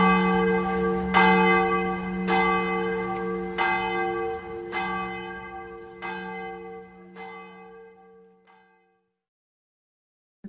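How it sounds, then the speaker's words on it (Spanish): Cathedral church bells ringing, a sequence of about eight loud, resonant strikes roughly a second apart, each leaving a long humming tone that slowly fades to silence near the end. "Campanas de la catedral."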